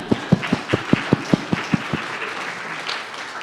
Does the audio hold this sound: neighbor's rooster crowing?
no